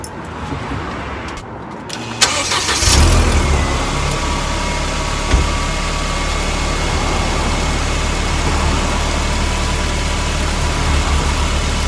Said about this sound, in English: So let's run the car, see if anything is obvious.